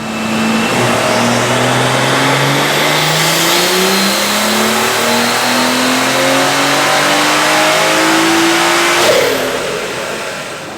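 A street-tuned turbocharged BMW F30 340 engine on a dyno revs steadily upward through several long pulls, loud and close, the pitch climbing each time before easing off at the end.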